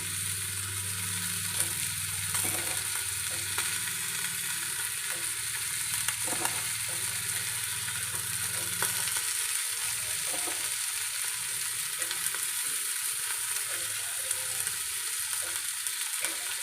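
Bangda mackerel frying in oil on a flat tawa gives a steady, close hiss and sizzle, broken by occasional spatters and scraping, with a low hum underneath and no voices.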